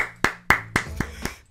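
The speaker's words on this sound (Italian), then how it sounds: "Ma applauso." Six or so sharp hand claps in a steady, evenly spaced rhythm, close and clear, with no voices.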